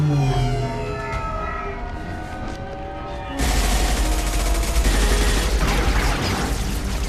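Video game combat with bursts of rapid gunfire swelling into a dense, loud barrage over a low rumble, continuous to the end, with a voice speaking during the firing.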